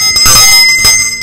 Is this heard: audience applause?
no